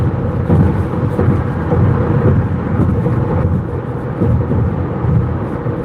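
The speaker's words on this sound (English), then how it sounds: "There's a lot of rain here now." Heavy rain on a car driving along the I-94 highway makes a dense, continuous roar with low road rumble, loud and unbroken throughout.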